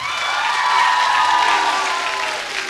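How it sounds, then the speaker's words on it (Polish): A studio audience at a children's song contest concert applauds a singing group, a dense, steady wash of clapping with some cheering that swells and then eases slightly toward the end. "Brawa dla nich!"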